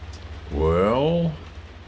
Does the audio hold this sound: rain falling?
yes